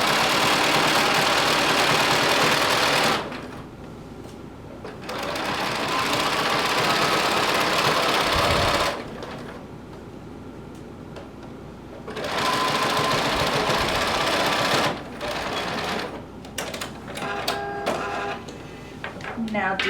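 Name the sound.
sewing machine stitching fabric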